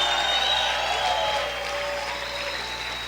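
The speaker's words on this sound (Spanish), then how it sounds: "Si yo fuera usted, estuviera celebrando y aplaudiendo fuerte al Señor." Church congregation applauding during a sermon, a steady dense wash of clapping that fades slightly toward the end.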